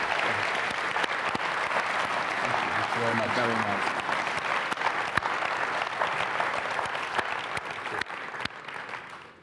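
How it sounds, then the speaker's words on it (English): Steady audience applause fills a business conference hall after a presenter is thanked, sustained clapping from a sizable crowd with a brief spoken phrase near the start. "Please, a round of applause"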